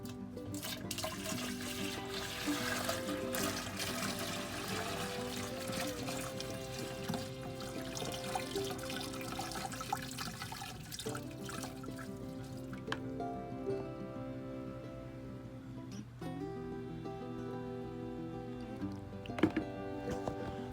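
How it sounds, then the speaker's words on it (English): Vinegar and salt weed-killer mixture being poured carefully into a garden sprayer, a continuous trickling, splashing pour with small drips, close and fairly quiet, without talk. "So we're going to carefully pour this into the sprayer"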